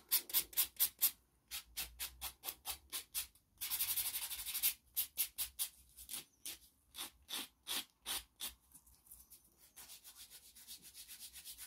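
A nail buffer scrubs over Future Nails dip powder nails in quick, close, rhythmic rasping strokes, with one longer continuous scrub partway through before the steady back-and-forth resumes.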